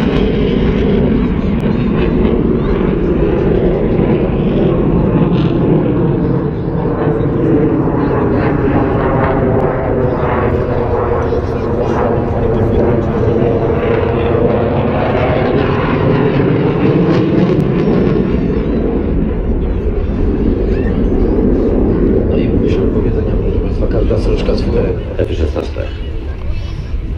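A military jet roars over an air show, a loud, sustained engine rumble rising and falling as it passes overhead, with a commentator speaking over the noise.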